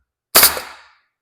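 A pneumatic stapler drives a narrow staple in a single sharp, loud crack with a short decaying tail, alone in silence.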